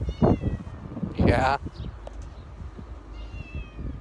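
A cat meows close by, a couple of rising, drawn-out cries, with a person speaking briefly in between.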